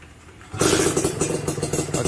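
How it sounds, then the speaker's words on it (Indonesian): A Thai-tuned motorcycle with a small pilot jet fires up without choke after half a second of quiet, then settles into a loud, rapidly pulsing, slightly uneven idle right up close. "tanpa kita tekan cok, kita try hidup lah"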